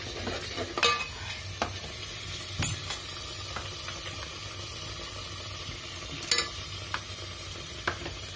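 Kashmiri chicken korma simmering in a pot on low flame, a soft steady bubbling sizzle with occasional clinks and scrapes of a spoon stirring, close and fairly quiet, no talk.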